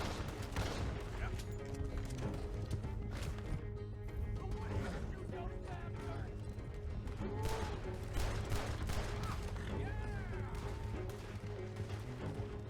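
Gunfire during a coach robbery in Red Dead Redemption 2, a dense volley of shots and impacts under game noise and speech throughout.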